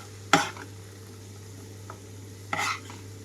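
Sliced onions frying in a pan for egg bhurji, with a low steady sizzle and two brief bursts of scraping stirring, one early and one near the end, and no voices.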